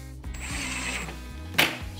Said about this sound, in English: Going very easy on the drill.